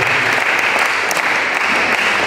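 A church audience at a building dedication in Dar es Salaam applauds loudly, with many hands clapping in a dense, sustained burst that stays strong and close for the whole stretch.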